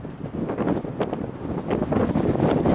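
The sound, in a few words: wind picking up at a campground in Wyoming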